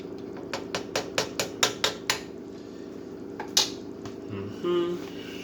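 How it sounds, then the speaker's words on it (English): A spoon stirs alfredo sauce made with half and half in a pot, giving a quick run of about eight sharp metallic clinks against the pot, then quieter scraping and a soft thud. No one speaks. "So stir it up a little bit."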